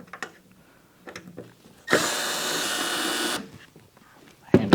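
Power drill running in one steady burst of about a second and a half, loud and close, backing screws out of the top of an MP140T multi-process welder's casing, with quiet handling noises before and after.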